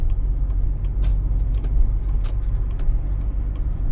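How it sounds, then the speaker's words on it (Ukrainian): Car pulling away on a driving-exam route through the streets of Kremenchuk, a steady low engine rumble heard from inside the cabin with a few faint clicks and rattles, no talking. "Від'їжджаємо"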